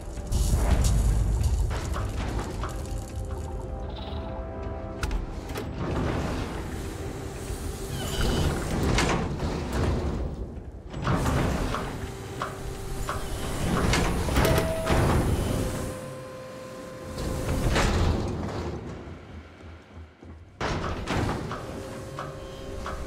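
Sci-fi sliding doors in the video game Starfield open with thuds and whooshes. They are heard among loud, dense in-game ambience and music with several booming swells, and no speech.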